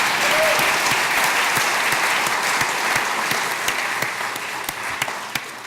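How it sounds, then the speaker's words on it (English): A luncheon audience at a Dallas jury improvement event breaks into loud, sustained applause, many hands clapping together with a few sharper individual claps standing out as it slowly tapers. "let's give a big round of applause"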